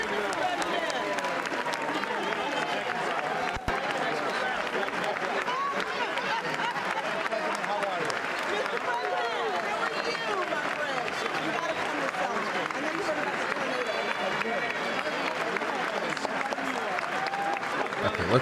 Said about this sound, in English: let's turn down the clapping